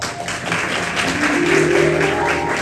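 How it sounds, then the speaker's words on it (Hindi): A seated church congregation claps together during a Christmas-season sermon, a brief, steady burst of applause filling the room. "तो इधर जो बैठे लोगों के लिए 2 दफा तालियां।"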